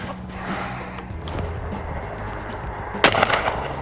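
A clay shotgun fires at an eco clay pigeon outdoors, one sharp loud report late in the clip over a low steady background rumble.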